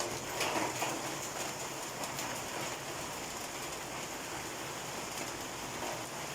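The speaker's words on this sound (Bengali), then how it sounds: "শুরু হয়ে গেল প্রচুর বৃষ্টি" Heavy rain falls steadily during a hot spell, a continuous dense hiss with scattered louder patters, close and even throughout with no voices.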